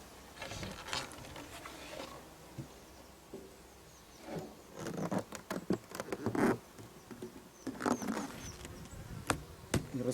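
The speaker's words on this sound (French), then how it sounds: "Il reste quelques abeilles dedans, c'est normal." Honeybees left in a summer honey super buzz during harvest after a bee escape was set the day before, a soft, steady hum broken by scattered knocks and rustling clatter as frames are handled nearby.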